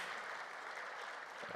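Round of applause from an audience at an African human resources summit, a steady dense wash of clapping sustained throughout, fairly distant and even in level, with no voices over it.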